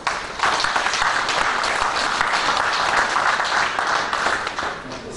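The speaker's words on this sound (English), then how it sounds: "please give him a round of applause" Applause from the audience at a military lecture as a discussant is introduced, a sustained burst of many hands clapping, dense and even, starting abruptly and easing off slightly toward the end.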